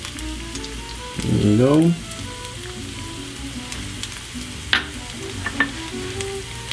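Oil sizzles softly in several pans heated for frying eggs, a steady low crackle under a brief tonal squeal, a few light clinks and a short spoken remark.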